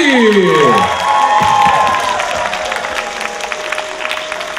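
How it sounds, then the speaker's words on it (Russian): A concert audience applauds and cheers loudly in a hall, with dense clapping and crowd shouts that stay steady and slowly ease off. Sweeping tones ring over the noise at the start. "под ваши громогласные бурные аплодисменты, аплодисменты уже звучат в зале"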